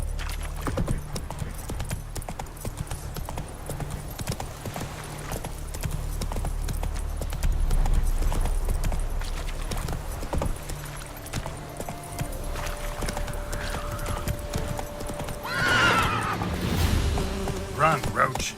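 In The Witcher 3, a horse's hooves clip-clop at a steady pace in a game scene, with a short neigh-like cry near the end and a low background hum.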